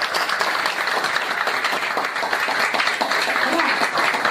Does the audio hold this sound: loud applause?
yes